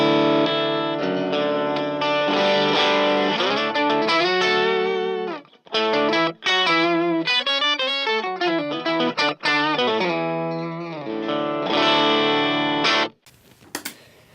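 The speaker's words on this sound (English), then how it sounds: "So that runs then into the more tender octaver" Electric guitar played through an octaver pedal on a worship pedalboard, giving a thick, sustained and doubled tone with chorus-like shimmer. Chords and melodic bends ring out loud and continuous, with brief pauses between phrases.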